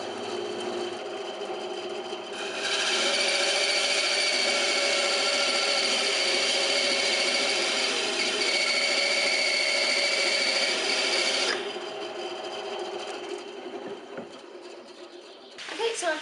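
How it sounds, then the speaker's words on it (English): A bandsaw cuts wood, its motor humming steadily while the blade biting the workpiece raises a louder, sustained rasp for several seconds before falling back to the running hum. "I'm now going to go on to cutting using the bandsaw."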